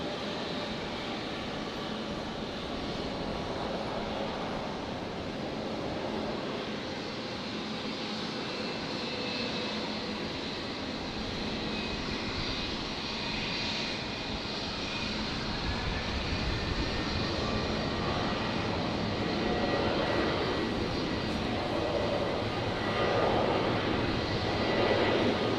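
A Velocity aircraft takes off from runway 19 left at Brisbane Airport at night, its engine roar heard from a distance as a steady broad rumble that swells gradually toward the end.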